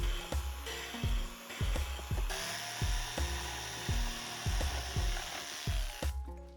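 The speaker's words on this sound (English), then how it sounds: "I cut them up and drilled holes." A power drill bores holes in homemade armor leg pieces. The motor whines steadily while repeated regular thumps of the bit break through the material, and the sound stops abruptly at the end.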